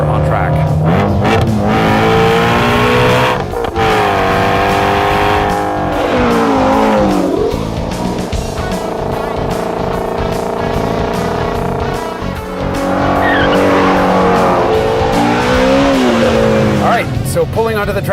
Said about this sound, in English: So pulling onto the track at Chuckwalla Valley Raceway. The Shelby Mustang GT350.